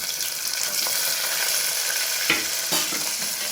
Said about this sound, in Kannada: ಸ್ವಲ್ಪ ಮೆಣಸಿನ್ಕಾಯಿ ಫ್ರೈ ಆಗುತ್ತೆ. ಈ ಉಳ್ಳಾಗಡ್ಡೆ ಹಾಕ್ತಿದ್ದೀವಿ.